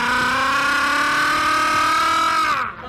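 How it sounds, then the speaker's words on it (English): A hog farmer's long, sustained pork chop call, one loud drawn-out vocal holler held steady for nearly three seconds before breaking off. "What you just heard was the pork chop call of the late Paul Bernhard."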